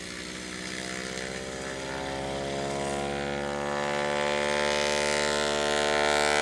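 A STOL propeller airplane taxis to the line at a STOL competition, its engine and prop drone steady and close, growing slightly louder as it nears.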